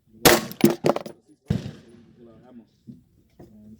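Gunfire at an outdoor shooting range: a quick cluster of sharp, loud shots near the start and another report a moment later, followed by someone talking at close range.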